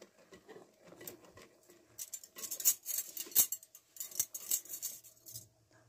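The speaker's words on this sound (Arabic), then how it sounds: "نقلب الزيت بتاعنا كده" A spoon works oil into cake batter in a bowl, with irregular soft clinks, scrapes and wet patters, some sharper knocks against the bowl's sides, fairly quiet throughout.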